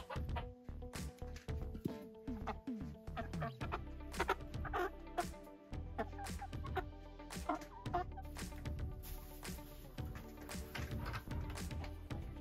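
Chickens clucking and pecking close by, with irregular sharp taps and scattered soft calls, no talking.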